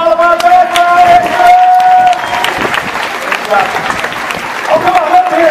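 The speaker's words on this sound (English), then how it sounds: "Keep that applause going for all of our bad guys!" A large crowd at the Indiana Jones stunt show at Disney claps and cheers loudly, with whistles and shouts over continuous applause and a booming announcer talking through it.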